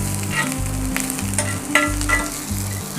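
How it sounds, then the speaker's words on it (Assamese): Onions sizzle and fry steadily in a pan for an Assamese village-style pork dish cooked with mustard spinach, a close, continuous crackle with brief scraping stirs and a low hum underneath. "পিঁয়াজ দিলোঁ পিঁয়াজটো অলপ ৰঙচুৱা হ'ব দিব লাগে"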